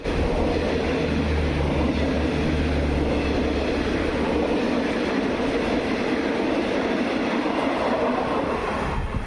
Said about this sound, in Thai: ก็มีรถด่วนขบวนที่ 86 นะครับ ตรังกรุงเทพวิ่งผ่านครับ